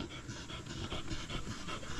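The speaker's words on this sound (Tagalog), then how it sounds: "Iba-iba talaga lahi ng mga aso mga kautoy." A dog pants rapidly and rhythmically close by, a steady breathy huffing over the whole stretch with no other sounds.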